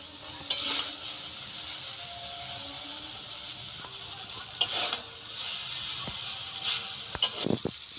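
Egg chowmein noodles with vegetables frying in a pan, a steady soft sizzle with occasional louder scraping stirs and clatters of a spatula.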